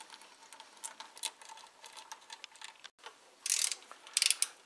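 Ratchet clicking in quick, uneven bursts while bolts are tightened on an Audi V6 engine during timing belt work, close and fairly faint, followed by a few sharper metallic rattles.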